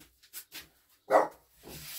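A dog barking at a neighbour: a few short, soft yaps, then one louder bark and a fainter follow-up, fairly close and alone without talk.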